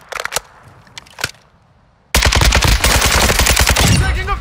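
Rapid automatic gunfire in Call of Duty: Modern Warfare II team deathmatch at Valderas Museum, starting after a few scattered sharp shots and then firing in a loud, dense, sustained burst close by.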